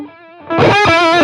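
An electric guitar played through a Line 6 Catalyst 100 amp on its vintage digital delay setting: a sustained note, then a louder strummed chord ringing with distorted, echoing repeats.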